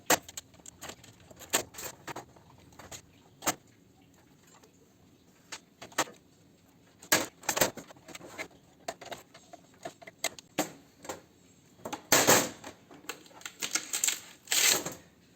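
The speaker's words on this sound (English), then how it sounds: "Whole lot of very thin gauge wire, but let's get the side cutters and attend to that." Side cutters snip thin gauge wire while scrapping an induction cooktop, giving sharp close clicks and snaps scattered irregularly across the stretch, with clattering and rustling of metal parts between cuts and a denser burst of snipping near the end.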